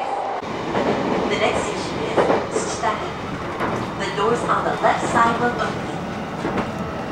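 Inside a train nearing Tsuchitaru station on a snowy line in Niigata, a steady rolling rumble with soft rhythmic wheel clacks and occasional creaks carries on throughout at moderate level.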